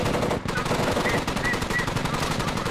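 Automatic machine gun fire in the combat video game Squad rattles out in rapid, continuous bursts of evenly spaced shots at moderate loudness, broken by a brief gap early on.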